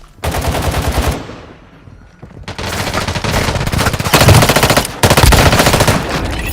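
Loud bursts of automatic assault rifle fire in the mobile shooter Warzone Mobile, several sustained volleys separated by a short pause, close and dominant with no talk.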